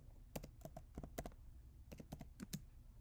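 Typing on a computer keyboard, close and quiet, in two quick bursts of several clicking keystrokes separated by a short pause, with no talking.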